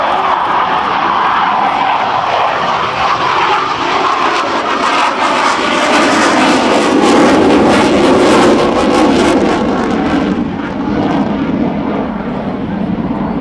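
A loud F-18 fighter jet roars past close by in a low-speed flyby, swelling to a peak midway and then easing off, its broad rushing engine noise steady throughout.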